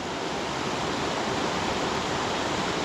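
Water rushes steadily down a beck near Whitfield Force waterfall at Askrigg, its banks strewn with fallen trees; a loud, even, broadband roar continues without a break and with no voices.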